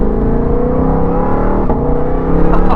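A high-revving sports car, a Mustang GTD or Porsche GT3 RS, pulls hard from the cabin with a loud sustained engine note, a quick shift dip partway through, then rising revs again.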